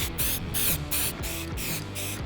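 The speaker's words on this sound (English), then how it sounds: "The amount of times I've used a spray can this weekend, my trigger finger is gonna be super strong" Black aerosol spray paint can coating car parts outdoors in wind, a loud close hiss in several long bursts separated by brief pauses, with a low rumble of wind beneath.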